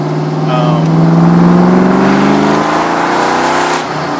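An engine fitted with a 4-valve swap revs up to high RPM, a loud, close, throaty roar whose pitch climbs steadily and then holds before easing off slightly at the end.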